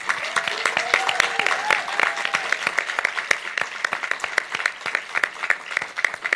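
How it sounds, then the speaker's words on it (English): Sustained audience applause for department staff at an MFA interaction design thesis festival, dense steady clapping from a crowd, with a few brief voices or cheers rising over it early on. "So please help me give them a round of applause."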